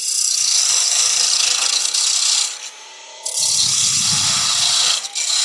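A parting tool cuts a kerf into spinning wood on a lathe while a Christmas tree is turned, giving a loud, rasping scrape that pauses briefly midway, then resumes with a deeper rumble.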